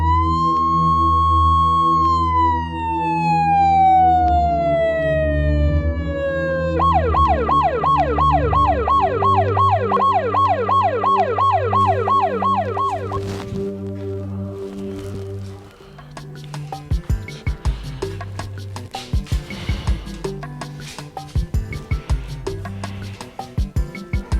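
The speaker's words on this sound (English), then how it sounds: "We need an ambulance immediately." An ambulance siren wails loudly and continuously, its pitch gliding and then switching to a rapid warbling pattern, before giving way to a clattering, busier scene in a Nigerian drama.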